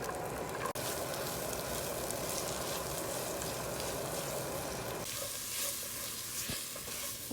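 Minced onions sizzling in hot oil with a tablespoon of butter, a steady close crackle and hiss throughout, with a brief clatter near the start and a lighter hiss in the last seconds.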